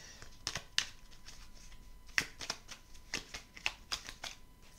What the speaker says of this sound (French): Je vais prendre une carte bonus.